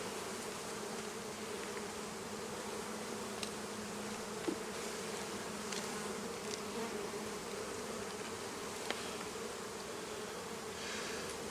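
Honeybees buzzing steadily at a hive from a 2021 swarm capture, a dense continuous hum at close range with faint clicks and ticks, no talk.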